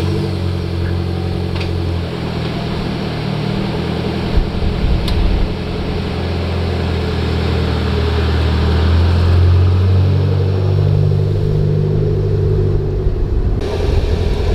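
A Mitsubishi Lancer drives off after a coilover height adjustment, its engine and road rumble steady and fairly loud throughout, a low continuous drone with light clicks and no talking.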